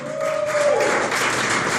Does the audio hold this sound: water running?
no